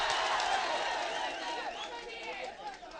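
Audience at a public hearing on a power generating company in Nagapattinam, Tamil Nadu, clapping and shouting in a noisy hall, with a crowd hubbub of voices layered over the applause throughout.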